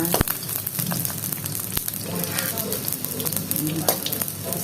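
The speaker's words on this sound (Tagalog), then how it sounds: "yun yung panggigisa" Garlic sautéing in a generous amount of hot oil for chicken liver and gizzard adobo, a steady close sizzle with crackling pops and occasional utensil clinks, with no talk.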